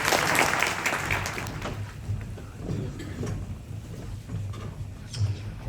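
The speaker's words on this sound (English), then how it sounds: "I would like for everyone to give them a big round of applause." Audience applause at a Burmese-American community gathering, a broad wash of clapping that is strongest at the start and fades into softer, patchy claps with room noise.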